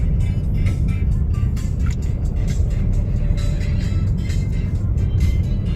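Cars crowd a toll road in early-morning traffic near Malabon, a continuous close rush of engines and tyres with vehicles passing steadily and a constant loud drone throughout.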